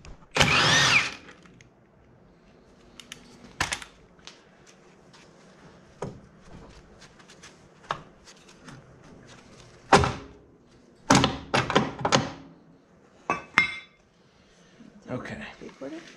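Parts come off a Can-Am Maverick fitted with a prototype rear steer system: scattered metallic clanks, tool clicks and thunks at irregular intervals, some sharp and close, with quiet gaps between.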